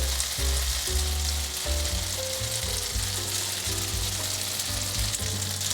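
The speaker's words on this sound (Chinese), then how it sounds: "先把豆干铺平，让它稍微煎一下。" Dried tofu slices pan-frying in hot oil give a steady, close sizzle and crackle, with a soft background tone running through it, and no voices.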